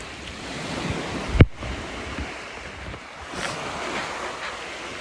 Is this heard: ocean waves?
yes